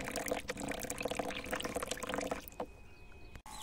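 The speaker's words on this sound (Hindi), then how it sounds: "तो अभी अपने बोरवेल का पानी इस टब में आ रहा है" Borewell water driven by a spray pump motor pours into a tub in a steady, fairly loud splashing stream, cutting off abruptly after about two and a half seconds into quieter trickling.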